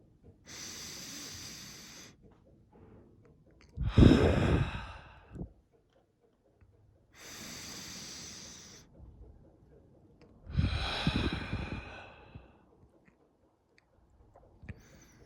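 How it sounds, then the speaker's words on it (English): Slow, deliberate deep breathing follows a guided pattern: two long airy inhales each answered by a heavier, louder exhale, close to the microphone with near silence between breaths. "Make sure you keep on breathing in that breathing pattern."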